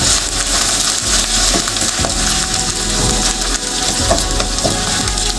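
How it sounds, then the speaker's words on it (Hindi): Ginger garlic paste cooking in a pot for chicken biryani, a loud, steady, dense sizzle with faint scraping, close and continuous, with no voices. "तकरीबन 1 मिनट तक हम इसको पकाएंगे, ताकि अदरक लहसुन का जायका वो अच्छे से हमारी बिरयानी में आए।"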